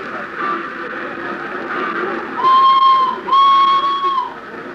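A train whistle sounds twice in fairly long blasts over a muffled station background, the second following shortly after the first.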